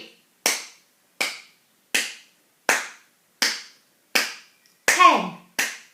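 A teacher claps along steadily to a counting exercise, eight sharp, close hand claps spaced evenly about two-thirds of a second apart, with a brief voice sound under one of them.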